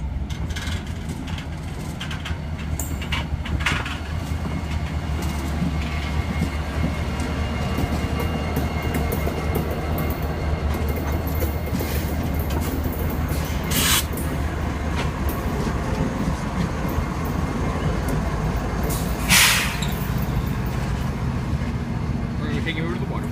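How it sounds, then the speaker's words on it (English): A train rumbles along the rails nearby, with a sustained loud roll, clattering wheels and occasional brighter metallic squeals over about twenty seconds, while a person talks faintly underneath. "our train coming in."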